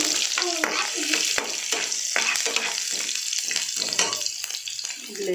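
Garlic sizzles loudly in hot oil for a tadka tempering for pumpkin curry, a dense continuous frying hiss broken by repeated stirring scrapes, close up with no talk.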